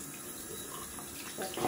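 Cold water runs steadily from a tap into a sink in winter, a close continuous rushing that swells louder near the end as hands meet the stream.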